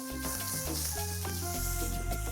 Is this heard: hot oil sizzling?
yes